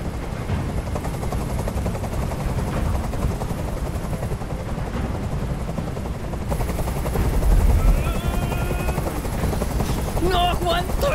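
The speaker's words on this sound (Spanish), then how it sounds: "¡Dile a ese helicóptero que se vaya de aquí!" A helicopter's rotor in the video game Detroit: Become Human chops and thrums steadily, with bursts of gunfire and excited voices shouting over it.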